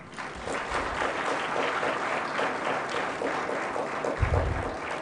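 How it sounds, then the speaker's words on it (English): An audience at a graduation ceremony claps for the faculty in steady, sustained applause that fills the room at an even level from start to finish. "please join me in giving this faculty team a resounding round of applause."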